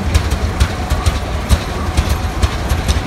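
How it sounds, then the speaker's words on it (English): A 1915-30 Type C Rumley OilPull tractor engine chugging steadily at low revs, with regular deep pulses and sharp periodic exhaust pops, fairly close and loud, in a threshermen's reunion parade. "Dave Jordan comes through with the Rumley Oil Pull. It's a 1530 Type C."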